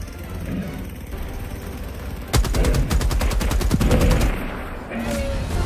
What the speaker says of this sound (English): I finally got to shoot something.